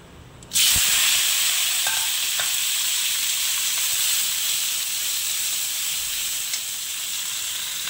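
Chunks of potato and tomato hit hot oil in a pan with a sudden loud hiss that settles into a steady, bright sizzle, with a couple of faint clinks and no voices.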